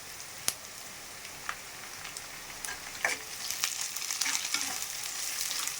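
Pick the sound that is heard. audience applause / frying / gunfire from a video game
frying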